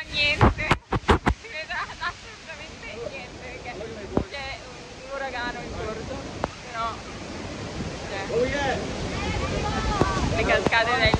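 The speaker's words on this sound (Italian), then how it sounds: "Le cascate del Niagara." Niagara Falls gives off a constant, loud roar of rushing water, heard from close by under people talking excitedly, with a few sharp knocks near the start.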